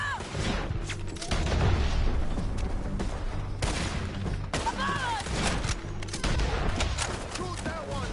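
Gunfire in Red Dead Redemption 2 crackles in several bursts of sharp shots over a rumbling low backdrop, with muffled talk and shouting mixed in.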